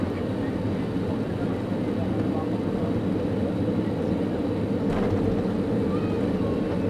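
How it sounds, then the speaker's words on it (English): Finnair Airbus A330 touching down on the runway at Doha, heard from inside the cabin as a loud, steady roar of engine and rolling noise with a brief thump near the end. "And we are down. Smooth landing."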